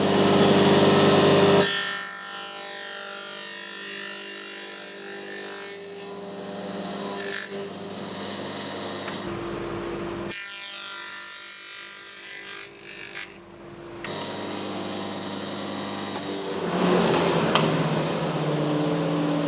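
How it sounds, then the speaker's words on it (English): A Sedgwick Model TE single-ended tenoner with top and bottom cutter heads machines a tenon in wood, with loud whirring and rasping cutting passes broken by short pauses, close by and with no talk. "start up the machine, top head and the bottom head, and just run it through"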